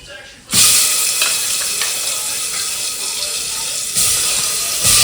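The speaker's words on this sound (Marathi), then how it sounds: "आता मी दोन्ही याच्यात तेल आणि बाकी खडे मसाले टाकले आणि आता त्याच्यामध्ये थोडी थोडी हळद टाकणार आणि आपलं मटण शिजायला टाकणार" Oil with whole spices, turmeric and mutton in pressure cookers breaks into a loud, close, continuous sizzle that starts abruptly after a brief quiet moment and swells again near the end.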